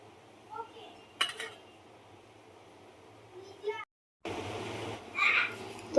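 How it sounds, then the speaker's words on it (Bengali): Fish heads being rinsed in a metal pot in a home kitchen, giving clattering pot and utensil knocks and a longer run of splashing, scraping water noise near the end, with a voice talking over parts of it. "তো মাছের মাথাটাকে ধুয়ে নিই।"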